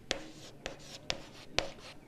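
Chalk-like writing on a board as an equilateral triangle definition is written in a Hindi geometry lesson: four sharp, evenly spaced strokes or taps, close and crisp, with no talking over a quiet background.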